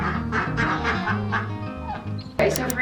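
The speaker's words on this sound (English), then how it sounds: "the ducks are still sleeping in this shed that we converted into a duck coop" Runner ducks kept in a converted shed serving as a duck coop quack in a busy, overlapping chorus close by, loud and continuous, with a louder burst of quacks near the end.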